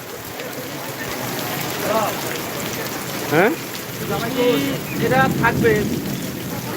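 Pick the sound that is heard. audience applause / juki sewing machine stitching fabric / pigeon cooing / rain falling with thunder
rain falling with thunder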